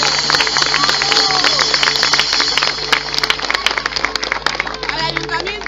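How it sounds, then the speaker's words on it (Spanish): A crowd claps and cheers at a medieval market show in Benidorm, Spain, with steady applause under a presenter's amplified voice. "Gracias a ellos, un aplauso."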